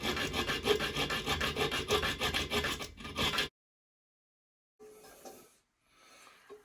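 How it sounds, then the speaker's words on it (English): Mini hacksaw cutting through a toilet bolt just above the nut, giving a steady close rasping stroke rhythm for about three seconds, then silence and a few faint scraping sounds. "Here's a little mini hacksaw that you can get at any hardware stores."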